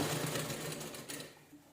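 Sewing machine stitching a blouse, a close, rapid mechanical whirring run of stitches that slows and tapers off near the end, with no talk.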